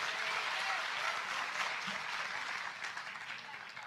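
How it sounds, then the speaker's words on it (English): A church congregation applauds in a steady, even wash of many hands, fairly faint and distant, fading slightly toward the end. "Clap for Jesus right now."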